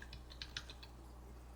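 Quick keystrokes on a computer keyboard, a short burst of light clicks with a couple of louder taps, close and alone over a low steady background hum.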